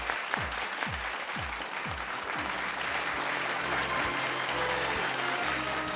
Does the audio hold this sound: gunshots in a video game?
no